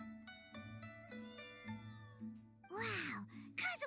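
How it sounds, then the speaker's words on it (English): A cat meows in the background of a Genshin Impact stream: a sustained, bending meow followed shortly by a shorter second one, cutting in over steady, tonal game music. "did you hear the cat in the background?"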